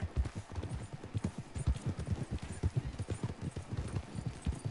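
Horse hooves clip-clop in a steady, fast rhythm while riding in the video game Red Dead Online, the hoofbeats close and continuous throughout with no talking.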